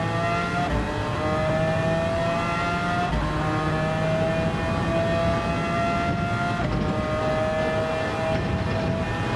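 A V10 car engine in Gran Turismo 7 holds a steady high-pitched drone with a few clean gear-shift steps, loud and continuous throughout, with no talking.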